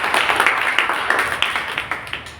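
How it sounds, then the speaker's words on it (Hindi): A congregation claps together at a church prayer meeting, a brief burst of loud, rhythmic, fairly even claps with a slight roomy echo. "आइए हम जोरदार तालियों से धन्यवाद"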